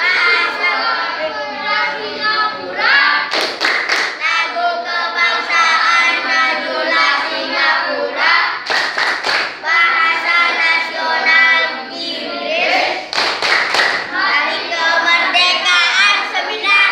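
Children's voices chant the Indonesian clapping rhyme Tepuk Informasi Singapura, a dense rhythmic run of sung syllables with sharp claps landing in clusters around every four to five seconds, steady and close throughout.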